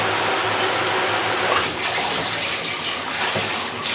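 Shower water running steadily from a Symmons valve after a cartridge replacement, a loud, constant hiss and spray that fills the room without pause and with no voices.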